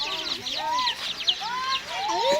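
Chickens cluck and peep outdoors in the late afternoon, a string of short rising and falling calls close by, with faint background noise.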